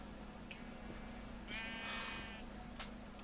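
A single sheep bleats in Minecraft (Feed The Beast) modpack gameplay, one short wavering cry heard alone over a quiet background, with a couple of faint clicks around it.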